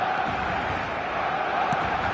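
A dense stadium crowd in the eFootball 2026 football video game roars and cheers steadily, a loud continuous wash of noise with no break.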